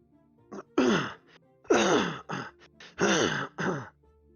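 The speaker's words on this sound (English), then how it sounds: "I was clearing my throat, and I think you can hear it on my new mic" Several rough, throaty bursts of throat clearing in quick succession, close to the mic, separated by short pauses, with no talking.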